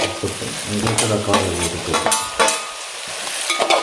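Ginger, garlic and green chilli sautéed in a pan for a Kerala fish dish, giving loud, close, continuous sizzling and frying with steady stirring scrapes throughout.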